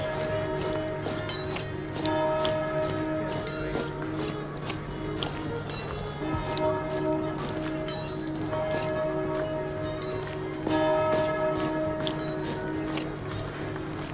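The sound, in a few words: monastery bells ringing in a video game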